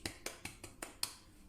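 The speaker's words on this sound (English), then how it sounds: "this is a mini applause for you" A quick series of six crisp hand claps or finger snaps, evenly spaced about a fifth of a second apart, close and dry, with no talking.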